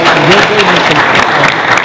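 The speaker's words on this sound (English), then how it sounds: "give the brother also another round of applause" Summit audience breaking into loud, close applause, dense clapping running the whole short stretch with a speaking voice audible over it.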